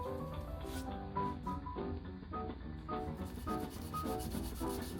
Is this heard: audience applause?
no